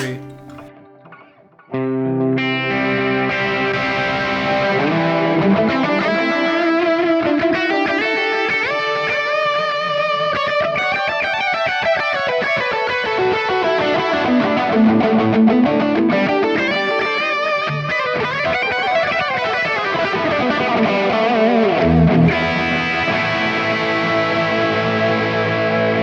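Electric guitar driven through a Morning Glory overdrive pedal into a Kemper profiler set as a clean amp, playing loud, sustained overdriven chords and melodic lines continuously after a brief quiet start, with no talking.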